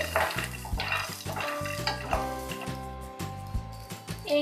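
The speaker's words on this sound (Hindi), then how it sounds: "2 हरी मिर्च कटी हुई, मूंगफली के दाने डाले हमने, रोस्ट करेंगे।" Peanuts and chopped green chilies being stirred and roasted in a pan for vada pav, with close metallic scraping and clinks of a spoon against the pan over a faint sizzle.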